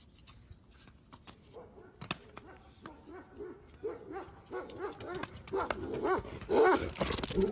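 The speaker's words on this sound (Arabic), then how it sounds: "الكلاب لحقوه." Dogs barking while chasing a man, sharp barks that start sparse and far, then grow louder and denser toward the end amid rough outdoor noise.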